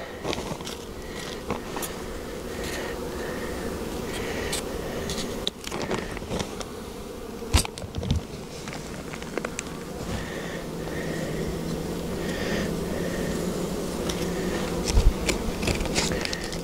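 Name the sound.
honey bees buzzing around beehives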